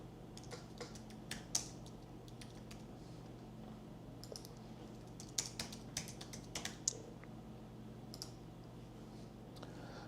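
Fingers type an address on a computer keyboard, giving quiet, scattered key clicks in short irregular bursts over a faint steady hum, with no speaking.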